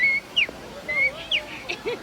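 An old man imitates bird calls with his voice, giving a series of short, high whistled chirps and warbles in quick bursts, close and fairly loud.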